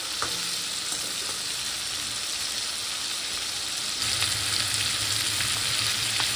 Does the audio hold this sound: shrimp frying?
yes